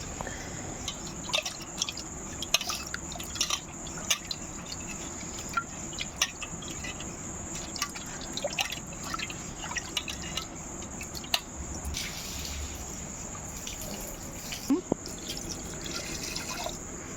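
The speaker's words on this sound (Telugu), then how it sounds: "మళ్ళీ ఒకసారి కడుక్కుంటున్నాను" Gongura leaves are rinsed under running water, giving a faint, steady trickle with scattered drips and soft splashes that continue quietly throughout.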